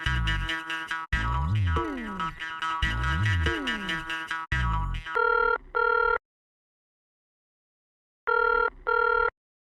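An electronic phone ring trills in warbling, sweeping bursts, then switches to a pair of clipped double rings, a pause, and another double ring.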